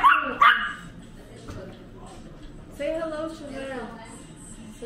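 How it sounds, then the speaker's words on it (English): A pet dog gives a couple of short, sharp barks and yips close by, and then whimpers softly while people talk around it. "Vicky's dog Miru"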